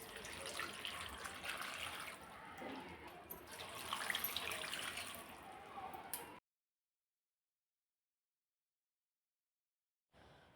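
Tap water runs steadily into a sink as peanuts are washed, a moderate rushing and splashing that stops abruptly, followed by silence and a brief return at the very end.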